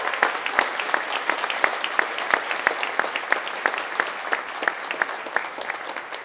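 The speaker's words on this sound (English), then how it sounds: "let's give a big round of applause" An audience at a high school college signing breaks into applause, steady enthusiastic clapping with distinct sharp claps standing out near the front, continuing throughout.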